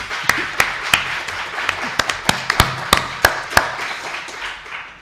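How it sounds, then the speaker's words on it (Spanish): Scattered applause from a lecture audience, with a few sharp, loud individual claps standing out in an uneven rhythm over a softer bed of clapping, close by and continuing for several seconds. "Así que pido un otro aplauso para Remei"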